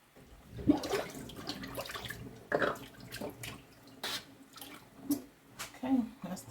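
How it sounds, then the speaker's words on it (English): Collard greens being swished and rinsed in a sink of water, with splashing and running-water sounds rising and falling under a person talking nearby. "there's no telling how many times you have to wash those greens"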